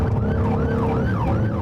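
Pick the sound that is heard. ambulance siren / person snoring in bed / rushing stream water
ambulance siren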